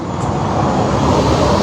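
Bus passing on a road, a loud, close, continuous engine and tyre roar sweeping by without any voices.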